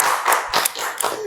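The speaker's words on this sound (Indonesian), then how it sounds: "Tepuk tangan dulu kan." A few seconds of close, distinct hand clapping from a small audience at a podcast discussion on students and democracy, several separate claps in an uneven rhythm.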